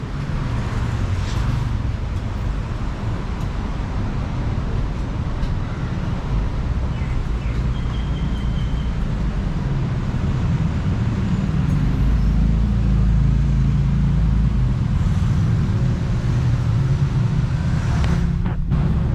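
Daytime street ambience near the city hall area of Kuala Lumpur, Malaysia, with a steady wash of passing traffic and wind rumble, distant engines and faint bird chirps throughout.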